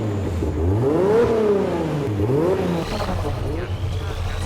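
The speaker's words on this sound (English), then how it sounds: "Sounds of motor revving." A car engine in a racing setting revs up and down twice, its pitch climbing and falling in smooth sweeps over a steady low idle, fairly close and prominent.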